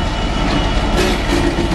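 A train shunting on rail lines near Didcot and Oxford gives a loud, continuous close rumble with wheel noise and no talking.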